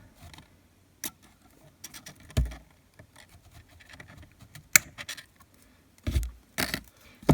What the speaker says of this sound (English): And now I'm going to just cut those off.